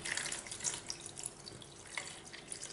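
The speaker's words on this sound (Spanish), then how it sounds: "ya voy a poner 1 litro de agua a temperatura ambiente," Room-temperature tap water runs steadily into a container, a continuous splashing stream with small drips, the pour for one litre of water, fairly faint with no talk over it.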